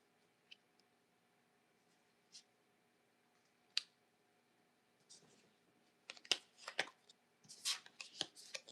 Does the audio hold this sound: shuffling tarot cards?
yes